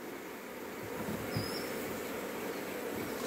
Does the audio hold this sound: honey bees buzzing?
yes